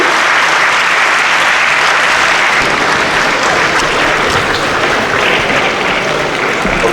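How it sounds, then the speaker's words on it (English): An audience gives loud, sustained applause to welcome a professor to the stage at a talk on standards, dense steady clapping filling the whole stretch with no speech over it. "with rapturous applause, let us welcome Professor Alex Dodoo."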